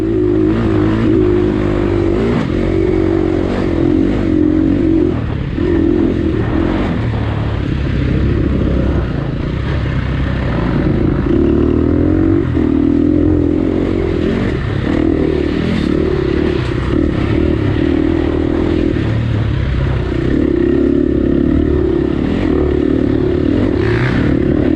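A dirt bike rips around a 2020 District 14 AMA hare scramble race course, its engine revving and dropping continuously as it accelerates and slows through the woods, loud and close for the whole lap.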